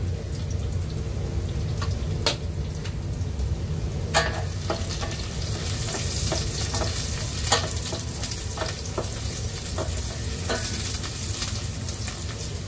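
Leafy greens frying with green chili and garlic in a home kitchen, a steady loud sizzle throughout with occasional clicks and scrapes of stirring, no voices.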